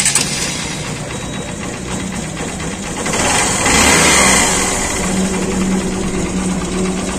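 A Honda Shine motorcycle with a slow-starting fault fires up and settles into a steady, rapid-ticking idle, close and fairly loud, with the engine note swelling briefly midway before evening out.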